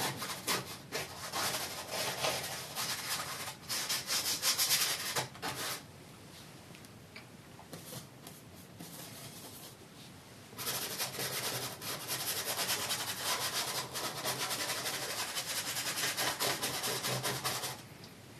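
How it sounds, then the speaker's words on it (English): Paintbrush scrubbing oil paint onto canvas in an impasto woodland painting, close, dry rubbing strokes in bursts with a quieter stretch in the middle, alone without talk. "we're just scrubbing paint still"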